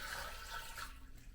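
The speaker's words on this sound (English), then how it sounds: "I can pour that water right down here." Water poured into a Glacier Bay high-efficiency toilet bowl during installation, a close, rushing splash that tapers off over about a second, with no talking.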